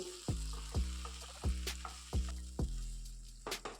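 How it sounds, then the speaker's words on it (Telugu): Garlic, chillies and curry leaves fry in hot oil, sizzling steadily in a pan while a spatula knocks against it in regular thuds, roughly every half second or so. "కొన్ని కరివేపాకు రెబ్బలు వేసి వీటిని బాగా ఫ్రై చేసుకోవాలి"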